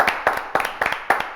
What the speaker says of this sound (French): Joachim, on va l'applaudir, non, quand même?